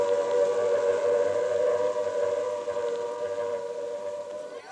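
A wartime air raid siren sounds over London, a sustained wailing tone held loud and steady before it starts to fade, with no voices.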